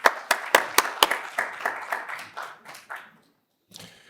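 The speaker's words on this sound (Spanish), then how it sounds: "Les pido un fuerte aplauso" A small group at a franchise conference lecture claps in brisk, distinct strokes that gradually thin out and fade to silence, followed by one last faint clap.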